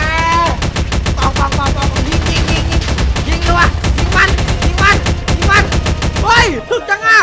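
Gunfire in the Minecraft video game sounds as rapid, evenly spaced automatic shots, loud and close, in a continuous burst. Excited voices and in-game tones run underneath, and the shooting stops abruptly near the end.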